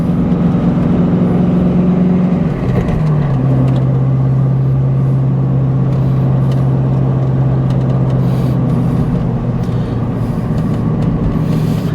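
Chevy truck engine climbing the winding Pig Trail mountain highway (Hwy 23) in Arkansas, a steady loud drone with a pitch drop near the start as it shifts, then a sustained low hum under road and wind noise throughout.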